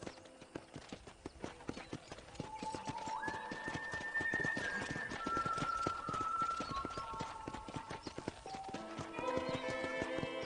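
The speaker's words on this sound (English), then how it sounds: "I picked out a fine horse for you." A horse trotting along in the Red Dead Redemption video game, steady clip-clop hoofbeats heard close and continuously, with background music rising over them.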